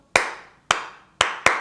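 Four sharp hand claps ring out close and bright in an uneven rhythm, each a crisp slap with a short decay, heard on their own.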